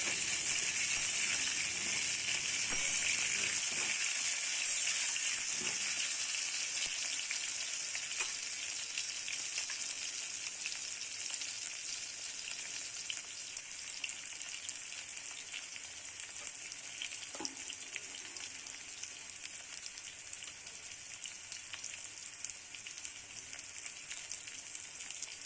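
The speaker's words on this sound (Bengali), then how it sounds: "ভালো করে ফ্রাই করে নিচ্ছি হালকা করে।" Potatoes seasoned with salt and turmeric fry in a pan for a Bengali-style mutton curry, giving a steady, dense sizzle that holds for the whole stretch with a few faint clinks and no voices.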